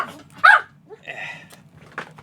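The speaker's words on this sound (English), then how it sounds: "the dogs are barking" Dogs give a sharp, close bark followed by a few fainter barks and yips over a couple of seconds in a quiet room.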